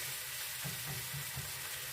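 Meat fries on high heat in a pan, a continuous broad sizzle and hiss with soft rhythmic stirring bumps underneath, steady and close, with no talking.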